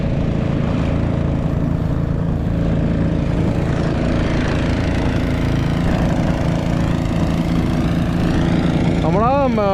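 Steady, close droning engine of a speed launch boat on Vembanad lake, a constant loud hum that runs unbroken for the whole stretch.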